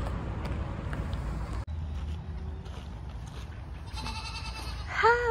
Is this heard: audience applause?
no